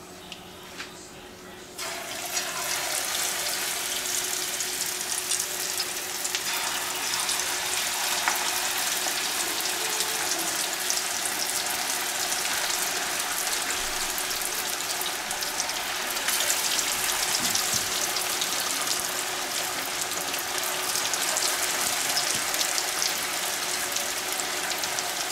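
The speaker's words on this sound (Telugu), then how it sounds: "ఇప్పుడు దీన్ని పకోడీలు వేస్తాం, ఆనపకాయ పకోడీలు." Bottle gourd pakoras frying in hot oil, a steady crackling sizzle that begins abruptly after a quiet moment and continues loud and unbroken, with faint speech now and then.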